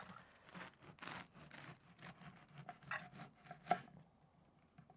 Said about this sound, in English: slice off some bread